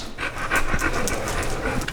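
Dog panting at a busy family dinner table with four dogs in the house, steady rapid breaths running close and continuous through the clip with no talk over it.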